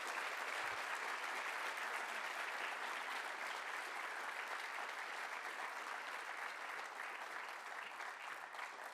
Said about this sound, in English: Let's give all of our students and educators a final round of applause.